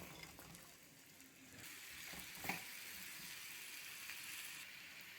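Dried amla, Indian gooseberries salted for pickle, dropped into a hot pan, giving a faint steady sizzle with a few brief stirring scrapes, quiet and continuous.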